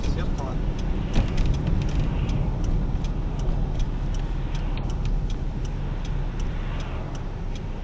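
Car turn indicator ticking for a left turn during a driving lesson, a steady run of regular clicks over engine and cabin noise, with people talking.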